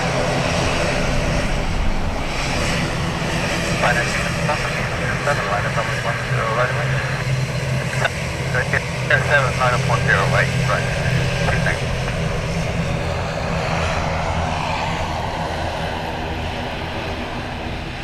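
An aircraft at Dublin Airport gives a loud, continuous engine roar with a broad rumbling wash throughout, and faint radio-like voices run underneath.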